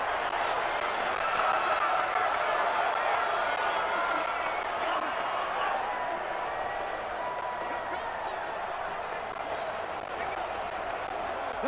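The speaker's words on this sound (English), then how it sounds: "The crowd getting into it as we come up on a big 3rd down" Stadium crowd noise in Madden 20 during a Rams at Eagles game, a steady roar of cheering that holds throughout, with a commentator talking over it.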